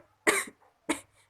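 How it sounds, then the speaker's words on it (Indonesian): Two forceful, deliberate coughs after a deep held breath, done as an effective-coughing exercise to clear sputum, close and loud, the second following about half a second after the first, with silence in between. "tarik nafas dalam, tahan 3 detik lalu batukan secara kuat"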